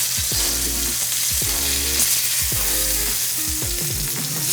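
Cod fillet frying in a hot pan, a steady loud sizzle and crackle running throughout, with several low thuds and scrapes of the fish being turned and moved, no voices.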